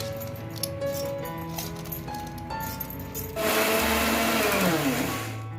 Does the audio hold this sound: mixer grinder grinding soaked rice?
yes